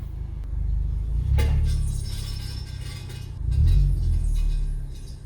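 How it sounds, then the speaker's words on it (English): A rock lodged between the wheel and brake rotor of a Honda Civic Type R scrapes and grinds in low rumbling waves, with a sharp metallic clink near the start and a second swell of scraping later, fairly close. "So there'll be rocks that'll get stuck in between your wheels or in your rotors"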